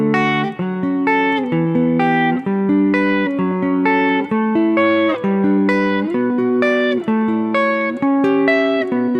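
Wide interval triads played quickly as a chord and scale pattern on a keyboard instrument, a steady stream of clear, evenly spaced notes moving stepwise up and down, loud and close with no talking.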